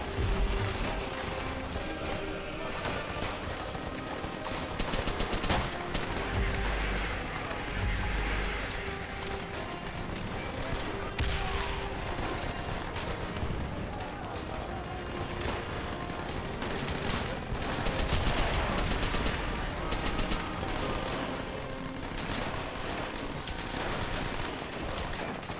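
Dense, continuous gunfire and explosions from the World War II shooter game Call of Duty: World at War, with overlapping rifle and machine-gun bursts filling the whole stretch at steady loudness.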